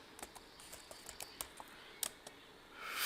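Someone types on a computer keyboard with quick, light clicking keystrokes in an irregular rhythm, close and fairly quiet, with no talk, ending in a rising hiss.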